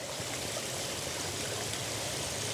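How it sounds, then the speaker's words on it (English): Stream flowing through the middle of a city, a steady broadband rush and babble of water that stays even throughout, moderately soft with no voices. "the amazing sound of the stream in the middle of the city"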